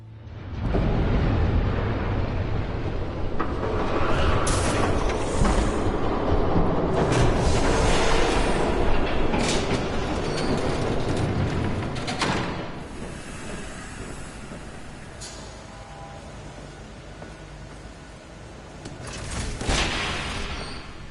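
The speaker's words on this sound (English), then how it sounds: "There's a train coming." A train rumbles past in the Batman Telltale Series game, a loud sustained roar with hissing, mechanical texture that swells early, holds, then gradually recedes before a brief late surge.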